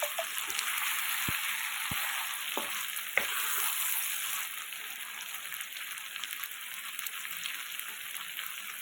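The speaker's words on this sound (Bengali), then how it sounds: "সেদ্ধ ছোলাটা ওর মধ্যে দিয়ে দেবো, দিয়ে ভালো করে কষতে হবে।" Boiled chickpeas stirred into hot oil in a pan sizzle steadily and fairly loudly, with a few sharp clinks of a spoon against the pan early on, and no voices.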